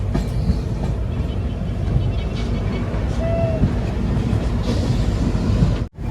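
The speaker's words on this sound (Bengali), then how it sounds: "ট্রেন ঢুকছে নিউ ফারাক্কা স্টেশনে" Shatabdi Express train (12042, New Jalpaiguri–Howrah) rolling on rails toward New Farakka Junction, heard from inside an AC chair car as a steady loud rumble with clickety-clack of wheels, a brief squeal midway, ending abruptly.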